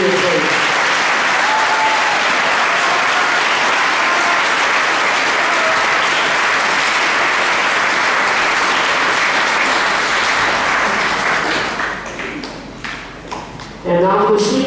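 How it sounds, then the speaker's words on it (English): Loud, sustained applause from a large crowd at a high school scholar club awards event fills the room, thinning out near the end before a brief burst of clapping returns. "Round of applause and seniors, please."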